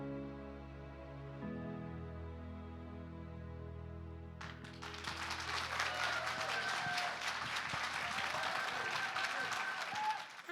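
Audience applause breaks out at a talent hunt show after a gospel song performance, starting abruptly midway over a fading sustained musical chord and continuing as steady, loud clapping with scattered whoops until the end.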